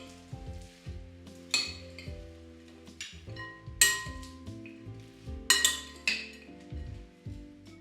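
Salad being tossed together with a fresh dressing, giving repeated soft wet rustles and clinks of utensils against a bowl in irregular bursts, close and moderately loud with no talking.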